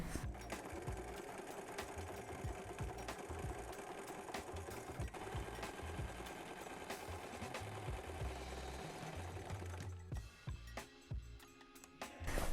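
A sewing machine top stitching a reversible bucket hat runs in a fast, steady mechanical whir with rhythmic needle clatter, close and continuous before slowing near the end.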